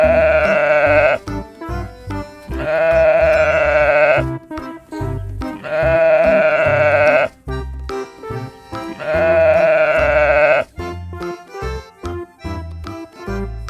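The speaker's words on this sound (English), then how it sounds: "Certainly, that's a sheep." Sheep bleat loudly and close, giving three long, wavering bleats with short gaps and softer grunting sounds between them, and no talking.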